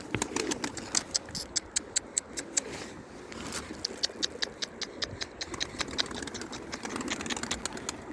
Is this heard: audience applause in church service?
no